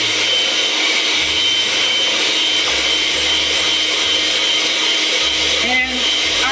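An electric mixer whirs steadily, loud and close, blending lemon icebox pie filling in a pot with a constant high motor drone.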